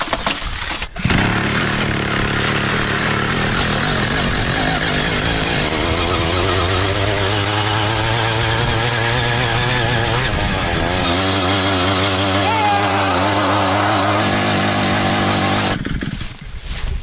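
A homemade motorized draisine driven across a football field, its small engine droning loudly and steadily with shifting revs, a buzzing chainsaw-like tone that rises and settles before cutting off near the end.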